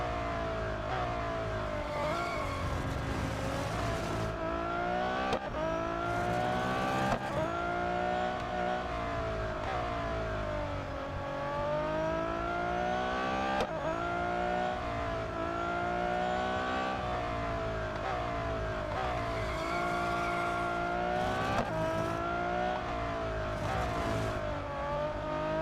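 Race car engine in Real Racing 3 holding a loud, steady high-pitched whine with repeated rises and falls as it accelerates, shifts and brakes through corners on a lap, with no talking over it.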